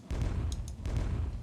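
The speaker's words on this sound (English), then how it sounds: "This one here can now throw the grenades." A thrown grenade bursts into a low rumbling explosion in the Deity Empires video game, with a short crackle and sustained boom lasting over a second, loud and close.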